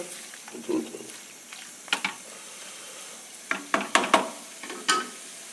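Three-quarter kilo of mutton sautéed in a little sesame oil inside a pressure cooker for village-style mutton kuzhambu, a soft low sizzle under a handful of sharp scraping knocks of a ladle against the cooker, clustered near the end.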